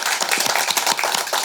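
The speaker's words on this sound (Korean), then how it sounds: "우리 전한길 강사님한테 박수 한번 쳐드리죠." A live audience claps for lecturer Jeon Han-gil at an event in the National Assembly members' office building, a brisk burst of many hands with quick uneven claps throughout.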